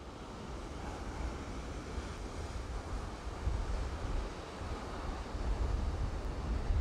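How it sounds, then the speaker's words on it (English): Ocean waves break steadily against the lava-rock coast of Pico Island in the Azores, a dense continuous surf roar mixed with wind rumble that swells slightly louder in the second half. "some waves are crashing here"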